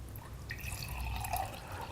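Tap water trickles and drips softly into a container holding oil, a faint, gentle pour with light splashing over quiet background noise.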